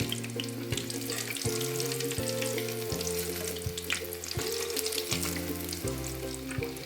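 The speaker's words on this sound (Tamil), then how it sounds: "இந்த நுரையெல்லாம் நமக்கு அடங்கினாதான் நல்லா ஃப்ரை ஆயிடுச்சுன்னு அர்த்தம்." Breaded potato chips deep frying in hot oil, KFC style: a steady, close bubbling sizzle runs through the whole stretch, with a sustained hum and an occasional light scrape of a spoon, and no voices.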